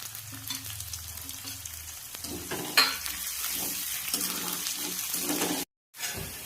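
Potatoes and green chillies fry in a pan for sabudana khichdi, giving a steady close sizzle with occasional stirring scrapes and a brief cut of silence near the end.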